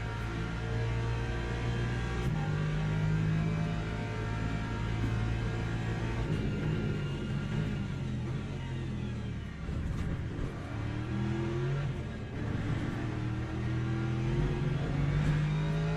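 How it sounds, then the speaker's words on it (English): Race car engine in Le Mans Ultimate, sim racing in Japan with GT3 cars, held high in the revs against the rev limiter: a steady loud droning whine with shifting harmonic tones, continuous throughout without pause. "Well, I hit the rev limiter."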